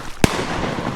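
A single sharp shotgun blast fired at a drake wood duck while duck hunting on a Michigan opening day, loud and close, with quiet outdoor background before and after.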